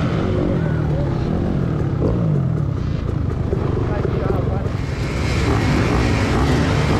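Nearly 20-year-old 2004 Kawasaki KX250 two-stroke motocross bike ripping hard during an MX race, a loud continuous engine roar with rising and falling revs as it shifts, heard close up from the rider's position with wind rush.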